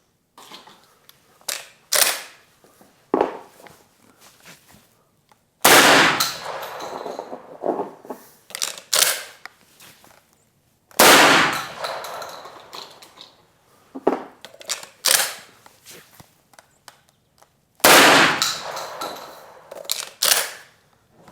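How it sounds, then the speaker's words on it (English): A Benelli shotgun with an Advanced Impact barrel fires four loud, sharp blasts spaced several seconds apart, each followed by mechanical clacks and handling noise. "Now let's try the Benelli."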